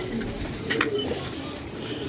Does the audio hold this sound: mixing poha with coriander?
no